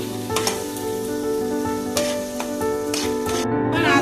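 Ginger, garlic and green chilli paste sizzles loudly with frying onions in a pan as it is stirred, a continuous close crackling hiss with occasional scraping strokes, while steady tones sit underneath.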